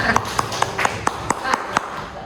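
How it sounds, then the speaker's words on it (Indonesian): A classroom group claps together in a steady, evenly spaced rhythm of about nine sharp claps after a game, with faint voices in the background. "Silakan tepuk tangan."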